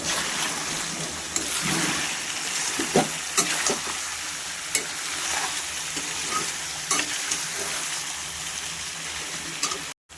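Meat, half-fried and with potatoes added, sizzles steadily in a pan on a gas stove, with scattered stirring clinks and scrapes throughout and a brief cut-off at the very end.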